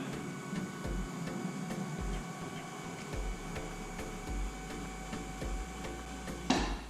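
A motorized trolling motor mount on a kayak lowers the motor with a steady mechanical whir and rhythmic ticking, ending in a short clunk as it stops.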